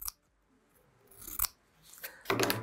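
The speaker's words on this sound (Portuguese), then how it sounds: "Estou cortando em cima da linha que eu risquei." Scissors cut patchwork fabric along a drawn line, giving several crisp snipping and slicing strokes close up, with quiet pauses between cuts and no talking.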